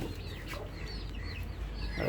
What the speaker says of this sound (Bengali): এখানে মুরগি আছে দেশি মুরগি বাচ্চা সহ